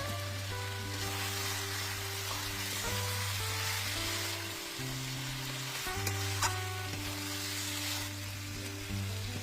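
Mutton pieces sizzle steadily in hot oil with salt and turmeric, a continuous close frying hiss broken by the scrape and clatter of stirring, with no voices.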